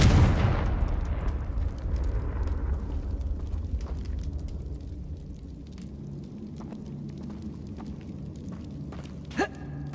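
Confringo fire spell in the video game Hogwarts Legacy: a loud booming explosion bursts at the start, then a long rumbling, crackling decay with scattered debris clicks and a sharp snap near the end.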